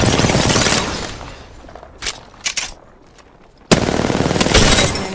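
Rapid automatic gunfire in an Apex Legends battle-royale firefight, a dense, loud burst of shots, then a lull with a few scattered sharp cracks, before a second heavy burst of sustained fire.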